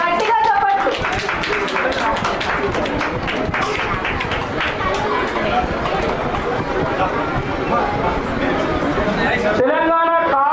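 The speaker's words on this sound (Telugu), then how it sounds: "గట్టిగా చప్పట్లు." A seated audience claps hard at a human rights protection service awards ceremony with cultural programs at Ravindra Bharathi. The loud, thick clapping runs without a break, and a voice is heard speaking near the end.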